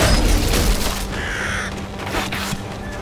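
A crow caws in the Viking action game Wolves of Midgard. The calls are harsh and brief, set over rumbling combat noise, booms and steady ambient drone, with no talking.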